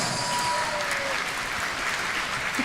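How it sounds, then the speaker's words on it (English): A crowd at a bowling stepladder finals applauds bowler Ahmad Muaz, a steady wash of clapping that holds at an even level for a few seconds, with faint voices underneath. "Everyone, let's give a big round of applause to Ahmad Muaz."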